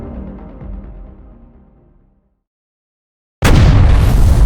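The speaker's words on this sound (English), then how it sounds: "The Ottoman cannons roared to life" A rumbling blast fades to silence, then a sudden loud boom of cannon fire erupts and sustains, heavy and close.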